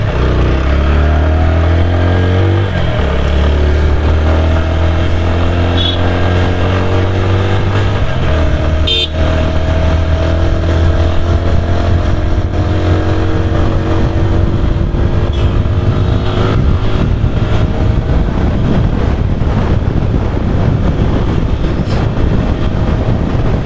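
TVS Apache RTR 160 4V motorcycle riding on the road, its engine droning loudly and steadily throughout, with pitch rising and falling as it accelerates through the gears and a brief horn-like tone partway.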